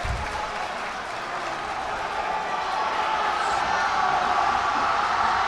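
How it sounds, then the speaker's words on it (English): Basketball crowd roars and cheers steadily for Ramapo at a boys state semi-final, the noise swelling louder toward the end, with an announcer's voice running over it. "This crowd is going nuts for Ramapo."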